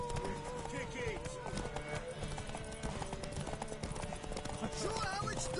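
Hooves pound in a steady rapid gallop as a horse races in The Witcher, continuous and close, with voices talking over the hoofbeats throughout.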